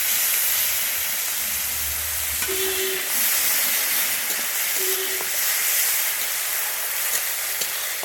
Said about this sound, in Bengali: আমি এবারে দিয়ে দিচ্ছি পেঁয়াজ আমি একটা পেঁয়াজ বেটে নিয়েছিলাম দিয়ে দিচ্ছি পেঁয়াজটা